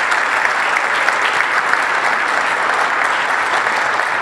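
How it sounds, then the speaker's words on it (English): Steady, dense applause from an audience at a completion celebration for a riverfront academic and heritage building, honouring its architect; loud, continuous clapping with no speech. "And Ralph, you can stand up so we can give you a round of applause"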